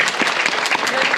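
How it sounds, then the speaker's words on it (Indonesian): A short burst of dense clapping from a crowd at a Balinese Bondres comedy performance outside a temple, steady and fairly close. "Tepuk tangan dumun untuk semeton sami."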